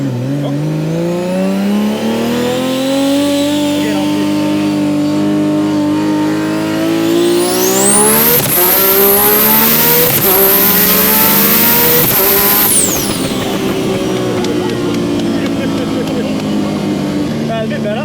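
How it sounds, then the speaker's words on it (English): A 1500HP Nissan R32 GTR with an RB28 engine revs hard at high RPM, its loud rising engine note climbing to a shrieking peak mid-clip before settling back, close up, with talk over it. "That noise when it gets the high RPMs."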